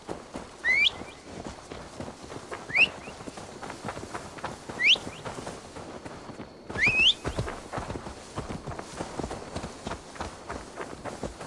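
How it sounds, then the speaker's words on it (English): Horse hooves clip-clop in Assassin's Creed Valhalla, a steady run of dense hoofbeats going on throughout, with several short rising whistle-like calls over them. "Now to deliver Magni his horse."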